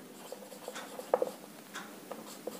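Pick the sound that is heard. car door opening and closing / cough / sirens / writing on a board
writing on a board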